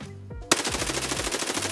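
Rapid automatic gunfire in the shooter game Escape from Tarkov, on the Ground Zero map: a steady, dense burst of rounds beginning sharply after a brief quieter lead-in and continuing loud and rhythmic to the end.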